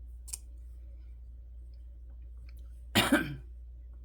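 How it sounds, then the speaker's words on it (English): A single short, rough cough or throat-clearing up close, preceded by a faint click, over a low steady hum. "As I cough more."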